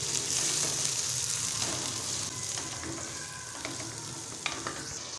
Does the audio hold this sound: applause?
no